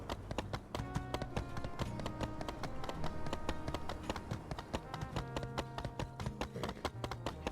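Steady, rhythmic clip-clop of horse hooves trotting in My Time at Sandrock, close and even-paced, with game music and faint insect-like buzzing beneath.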